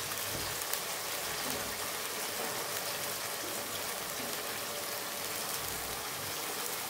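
Pieces of elephant foot yam fry with salt in a pan, giving a steady, even sizzle that holds throughout like light rain, with no talk over it.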